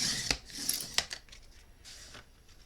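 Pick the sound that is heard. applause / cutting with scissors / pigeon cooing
cutting with scissors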